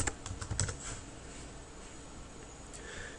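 Quiet keystrokes on a computer keyboard, a quick cluster of taps at first and then sparse, fainter typing, with no talk.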